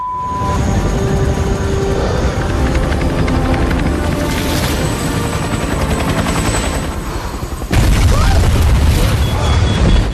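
A helicopter waits at a rooftop in an action movie scene, with a loud, continuous rotor roar mixed with dense action soundtrack, the sound thickening abruptly near the end.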